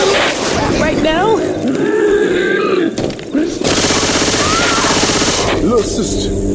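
Loud automatic gunfire in Left 4 Dead 2 rattles continuously beneath grunting voices and chatter, with the shooting steady for several seconds.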